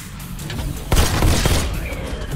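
Gunfire in the VR shooter Robo Recall, aimed at a robot's weak back: a sharp burst of rapid, loud shots near the middle of the clip over a steady game background, with no talking.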